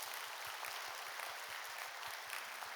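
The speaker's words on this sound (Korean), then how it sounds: "우리 옆 사람에게 좀 박수 한번 이렇게 격려해 주시죠" A church congregation at a Sunday worship service applauds its neighbours in a dense, sustained round of clapping with a steady rhythmic low thump underneath, even and continuous throughout.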